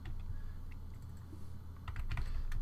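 Keys clatter on a computer keyboard while code is typed for a Sprite Kit role-playing game, with soft, close, irregular keystrokes in scattered bursts that grow denser near the end, over a low steady hum.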